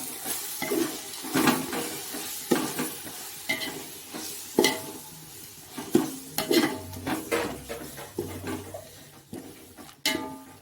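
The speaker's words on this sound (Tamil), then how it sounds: "நல்லா மிக்ஸ் பண்ணிவிட்டு மசாலா கொஞ்சம் நல்லா வெந்து வரட்டும்." Mushroom biryani masala being stirred in a pot, with repeated scraping and clinking of a metal spoon against the vessel over a steady frying sizzle, close and rhythmic with irregular knocks throughout.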